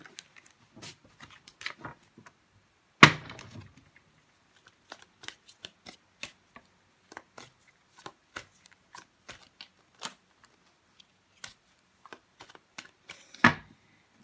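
A deck of tarot cards being shuffled by hand at close range, with a long run of quick soft riffles and flicks, two louder bursts of card noise partway through and near the end, and no talking.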